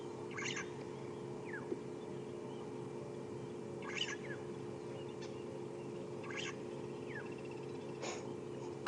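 Sharp metallic clinking calls of blacksmith lapwings ring out in short bursts every few seconds over a steady low background hum.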